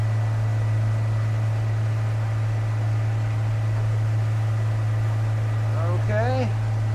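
A Honda 90 outboard motor pushes a 2005 Hewescraft 180 SeaRunner through the water, a loud steady droning hum as throttle is added, with wind and hull noise mixed in and someone speaking near the end.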